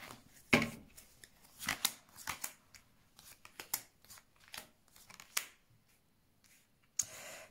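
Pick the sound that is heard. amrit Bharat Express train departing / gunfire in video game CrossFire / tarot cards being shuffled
tarot cards being shuffled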